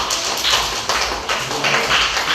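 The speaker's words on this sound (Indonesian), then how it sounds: "Kita sekali lagi beri aplaus yang meriah untuk kelompok 1" A classroom audience claps for a presentation group, a dense, steady patter of many hands filling the whole stretch without any voices.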